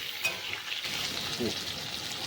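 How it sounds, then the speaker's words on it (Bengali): Pointed gourd (potol) frying in oil, giving a soft continuous sizzle and faint spattering close by, steady and fairly quiet throughout. "পটলগুলো ভাজা হয়ে গেছে, এবার তুলে নেব।"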